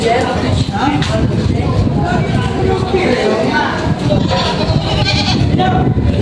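Goats bleat repeatedly amid a busy, noisy pen at a livestock market in Padre Garcia, with people talking loudly over the animals close by.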